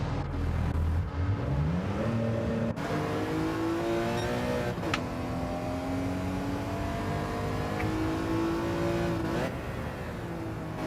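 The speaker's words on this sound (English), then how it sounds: "I've got loads of cars going by." Race cars in Gran Turismo 7 accelerating and driving past, steady engine drone with rising gear-shift whines and a few passes sweeping by close, loud throughout.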